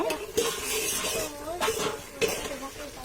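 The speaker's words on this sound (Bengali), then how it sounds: "একটু ভালো করে নাড়াচাড়া দিচ্ছি" A spoon stirs curry in a cooking pot, giving four or five metallic scrapes and clinks at uneven intervals while someone talks over the stirring.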